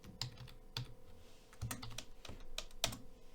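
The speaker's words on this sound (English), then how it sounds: "Let's hit enter." Keys clatter on a computer keyboard in a short burst of typing, with several sharper, louder strokes standing out as the enter key is struck, close and clear with no talk.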